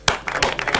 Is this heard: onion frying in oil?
no